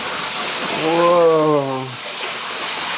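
Water rushes steadily into a bath in a Kyoto hotel room, a loud broadband gush filling the whole clip, with a brief exclaiming voice partway through.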